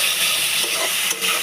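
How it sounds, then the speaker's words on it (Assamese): Boiled potatoes frying and being stirred in a pan, a steady close sizzle with a couple of soft scraping strokes of the spoon, no voices. "আলুখিনি অলপ ভাজি আছোঁ এতিয়া"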